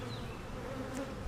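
Honey bees buzz around an opened beehive, a faint hum that rises and passes close by with no talking.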